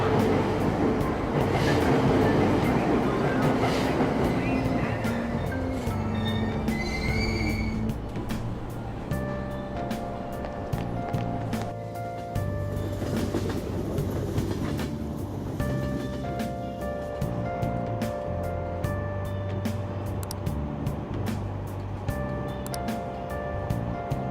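A subway train from the video game Persona 5 runs with a continuous rumbling drone and a layered tonal hum, steady and fairly loud throughout, with no voices over it.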